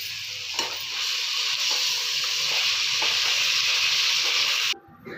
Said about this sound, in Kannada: ಇಷ್ಟು ಫ್ರೈ ಆದಮೇಲೆ ಮೆಂತ್ಯ ಸೊಪ್ಪನ್ನು ಚೆನ್ನಾಗಿ ಫ್ರೈ ಮಾಡ್ಕೋಬೇಕು ಆಯಿಲಲ್ಲಿ.